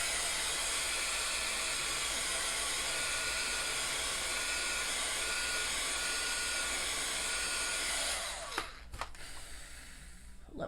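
A heat dryer blows steadily over a freshly printed board during a screen-printing box frame project, a loud continuous whooshing hiss that cuts off near the end, followed by faint handling clicks.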